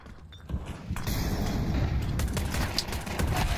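Gunfire during a professional Counter-Strike match, dense overlapping shots and clatter building after a quieter start, with scattered sharp cracks and footstep-like noise throughout.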